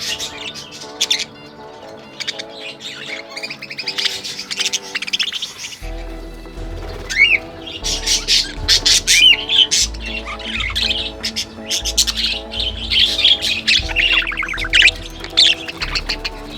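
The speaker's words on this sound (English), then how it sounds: "Within minutes, they started exploring, nibbling, chirping" Budgies in an aviary chirp and squawk in dense, overlapping bursts, bright and close, with a steady tonal hum underneath; the calls grow busier and louder partway through and continue without pause.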